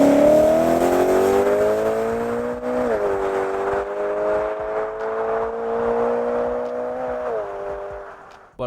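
A BMW M3 E92 with its naturally aspirated V8 revs loudly through an Akrapovic titanium exhaust with a sport catalyst. The engine climbs, holds a sustained high howl with a couple of shifts, then cuts off abruptly at the end.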